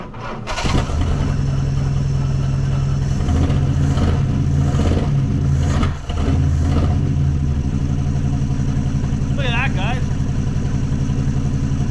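A 1963 Plymouth Belvedere engine, sitting since 1978, cranks with a brief starter whir, then catches and runs in a loud, steady idle close by, with a short dip in the middle and a voice briefly over it.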